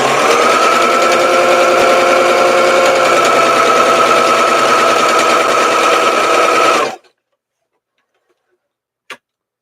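Sewing machine stitching fabric for bloomers, a loud fast steady whirring chatter running for about seven seconds, then stopping abruptly, followed by silence and a single small click.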